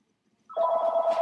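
A mobile phone suddenly starts ringing nearby, a loud steady electronic trill that breaks in after a near-silent opening and carries on to the end.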